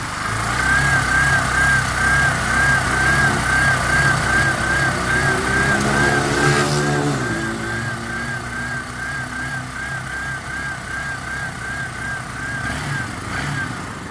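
A 2023 Barako 3 motorcycle engine held at steady revs above 2,000 RPM, its idle drone broken by an uneven stuttering misfire, loud and close for the whole stretch, with no speech over it.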